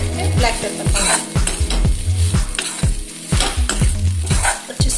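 Chicken pieces with chili powder and spices sizzle and fry in a pan while a utensil scrapes and stirs them in steady repeated strokes, with clinks against the metal.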